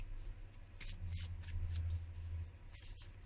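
Tarot cards shuffled by hand in a quiet room, a steady riffling and sliding run of papery flutters with a few short bursts, close and moderately soft.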